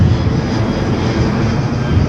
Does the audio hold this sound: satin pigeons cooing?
no